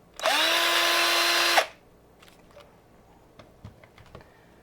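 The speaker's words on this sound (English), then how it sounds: "my electric drill, which allows me to make constellations of tiny holes in no time at all" An electric drill bores tiny holes in a pumpkin in one loud, steady burst of about a second and a half, followed by quiet scattered tapping and clicking.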